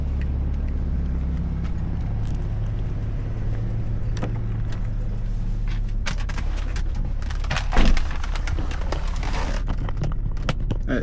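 A 1990s BMW 850Ci is heard from inside as it drives, with a steady low engine and road drone running throughout and some brief knocks and rattles near the middle.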